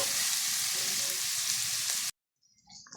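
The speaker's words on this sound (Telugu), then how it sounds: "ఇంకా కొంచెం ఫ్రై చేద్దాం ఇంకా ఉల్లిపాయలని" Chopped onions frying in oil give a steady, loud close sizzle for about two seconds, then cut off abruptly to near silence with a faint clink or two toward the end.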